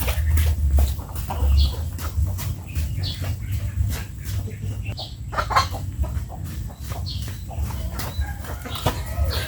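Chickens cluck in short, repeated bursts close by, over a steady low rumble with no talking.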